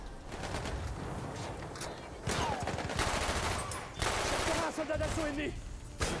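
Gunfire in the Battlefield 1 video game on the Fort de Vaux map, with repeated shots and bursts of automatic fire that grow louder partway through, mixed with dense battle noise and some voice in the background.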